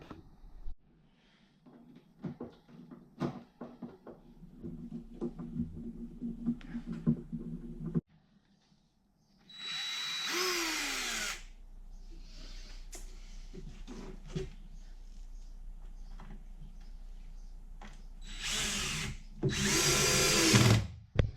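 A power drill drives screws into a wooden balustrade, with shorter whirring bursts and knocks early on, then a long sustained drilling run that winds down and surges again near the end, loud and close.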